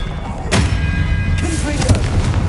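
An Expelliarmus disarming spell is cast in Hogwarts Legacy on PS5, a sharp magical burst with a bright whoosh and low thump, then a second flare, loud over dense game background noise.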